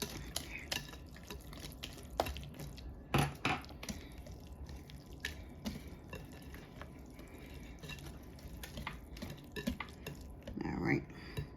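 Sweet potato pie filling being stirred in a bowl, with a utensil clinking and scraping against the sides in steady, uneven strokes close by, plus occasional louder knocks and wet sloshing.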